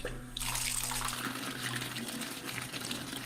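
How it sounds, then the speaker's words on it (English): Water gushes steadily from a faucet into an old-fashioned washtub in a bathroom, a loud continuous running splash that starts abruptly and fills the whole stretch without talk. "She turns on the faucet."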